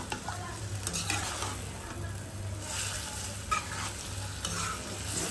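Small fish with coriander leaves being sautéed bhuna-style in a pan: continuous close stirring and scraping over a steady frying sizzle, with a few louder knocks of the spatula.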